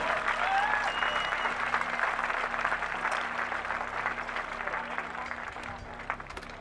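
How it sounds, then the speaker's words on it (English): A crowd at a skateboarding prize ceremony for a concrete bowl contest gives sustained applause that fades slowly, with scattered whistles and cheers rising over the dense clapping. "One more round of applause, please, for our Betongcupen winner"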